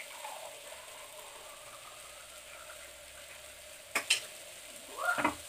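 Moringa leaves sauté in hot oil for a soup, a soft steady sizzle with a few louder scraping stirs of a spatula near the end, close and quiet, with no talk.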